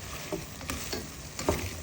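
Shrimp sizzles softly in a pan while a utensil stirs it, making a few scraping clicks over the steady frying hiss, close and without talk.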